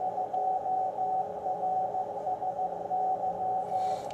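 A 2-meter band Dural radio beacon ident, received on a homebrew SDR about 130 km away, comes through as a steady keyed tone pulsing in a regular on-off pattern over constant receiver hiss.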